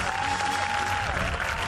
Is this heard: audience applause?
yes